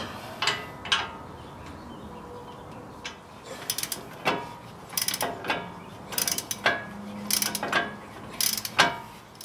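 Ratchet wrench loosening caliper bracket bolts on a 2007-13 GM truck's front brakes, giving irregular short bursts of clicking and metallic knocks spread across the clip, close up with no talking.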